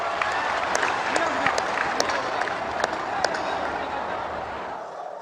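Audience applause fills a public event in Assam, a dense, steady wash of clapping from a large crowd that holds at full strength and then begins to fade near the end.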